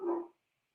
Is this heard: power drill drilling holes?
no